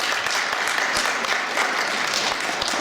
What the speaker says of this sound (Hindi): और ताली के साथ आपको